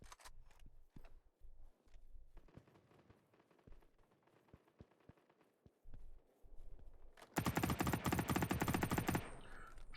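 Rapid bursts of automatic gunfire and scattered single shots ring out in a Battle Prime multiplayer match, sparse pops early on giving way to a loud, sustained volley near the end.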